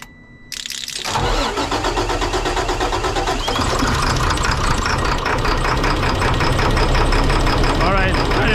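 A Caterpillar C7 diesel engine with newly replaced fuel injectors cranks, catches and settles into a loud, steady, clattering idle that runs on continuously.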